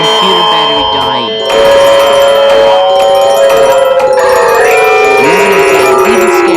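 An emergency alert system alarm blares loud and harsh: a shrill sustained electronic tone with layered beeping pitches and a long sliding tone dropping through the middle, continuous for several seconds.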